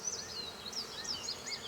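A steady, dense buzzing of many honey bees fills the space, close and continuous, with individual wingbeats rising and falling in pitch.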